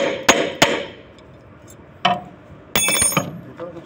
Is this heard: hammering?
yes